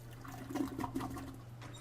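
A toilet flushes in the video game Shadows Over Loathing, a steady rushing swirl of water with a gurgling surge near the middle, heard alone at moderate level.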